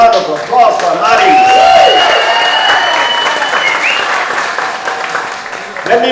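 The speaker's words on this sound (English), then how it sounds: "Another round of applause for Mari." A press-conference audience for a patronal festival gives a round of applause, loud and steady clapping with a crowd murmur and a sustained tone running underneath.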